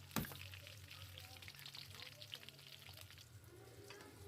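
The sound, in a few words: frying vegetables in a pan for quail egg balado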